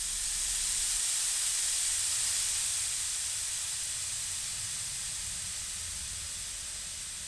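A gas thruster fires through a 2 mm straight-through nozzle on a solenoid valve, giving a steady, loud, broad hiss that holds for the whole stretch and only slowly fades, with no talk over it.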